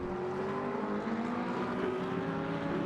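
Steady, continuous engine drone of McLaren and Lamborghini race cars running flat out at Le Mans in a racing video game, a sustained whine with no break.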